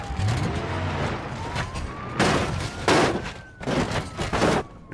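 Police car siren in a video game: a wailing siren sweeps slowly up and down beneath bursts of loud crashing, rapid gunfire-like noise.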